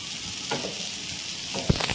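Pieces of shark fish fry in hot oil, a steady, dense crackling sizzle with occasional louder pops and a sharp tap near the end.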